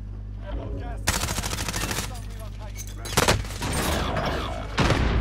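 Gunfire in a Call of Duty match: rapid automatic bursts crack out loudly around one second, three seconds and near the end, with sustained firing and battle noise between them.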